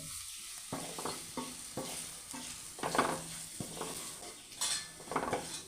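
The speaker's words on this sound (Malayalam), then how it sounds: "അര സ്പൂൺ നമുക്ക് ഗരം മസാല ചേർക്കാം ഒന്ന് ഇളക്കാം" A spoon stirs spices with garam masala through a sizzling pan, making repeated scraping strokes in an irregular rhythm over a soft, constant fry hiss, close and moderately loud.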